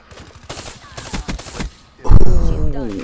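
Rapid XR2 rifle fire in the shooter game Black Ops 3 on the Fringe map: a quick run of sharp shots, then a louder booming burst, with game sounds layered over it.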